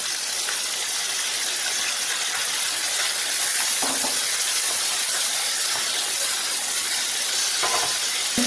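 Crab pieces sizzle in a pan of sautéed tomatoes for a tamarind crab curry. The sound is a steady, dense hiss, close and even throughout, with a few faint clicks of movement and no talking.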